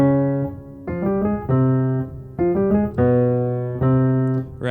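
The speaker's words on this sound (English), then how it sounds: "it was actually Loki's theme all along" Loki's theme from the Loki series score, a short melodic phrase of clear sustained notes in repeated rising figures, played alone and fairly loud, with no talking.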